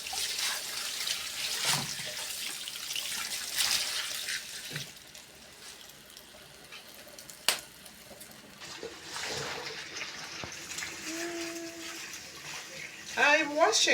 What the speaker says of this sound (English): Still washing my dark green vegetables.